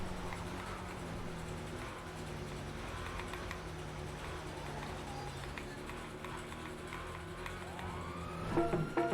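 A police car siren in a car-stealing city video game, a wailing tone rising and falling over steady traffic and engine noise, growing louder toward the end.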